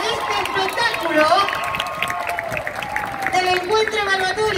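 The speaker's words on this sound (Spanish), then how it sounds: "¡Bien fuerte el aplauso!" An audience at an official carnival parodist contest applauds, a dense wash of clapping mixed with crowd voices and sustained tones, loud and continuous throughout.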